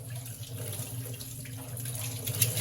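Tap water runs steadily over dishes as soap is rinsed off at a kitchen sink, a close, continuous splashing stream.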